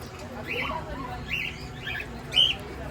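Cockatiels kept as pets at a bird dealer give several short, bright chirping calls in quick succession over a low background hum, the last call loudest and nearest.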